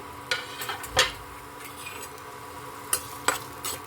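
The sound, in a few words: frying sambar powder, onion and garlic in a pan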